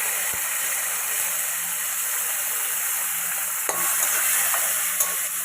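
Chopped tomato tipped into a hot pan for an eggplant curry, giving a steady broadband sizzle with faint stirring scrapes and a couple of soft knocks, close and continuous with no talk.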